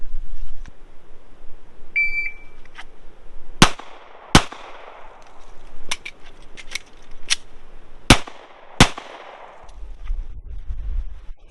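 A handgun fires during a range drill timed with a shot timer: a short beep, then sharp, loud shots at irregular spacing, two tight pairs among singles, ringing out over quiet gaps.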